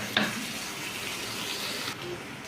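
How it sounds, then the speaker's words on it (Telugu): Chopped mixed vegetables fry in a pan while upma is being made, giving a steady, close sizzle with a brief sharper crackle near the start. "ముక్కలన్నీ బాగా వేగిపోయాయి."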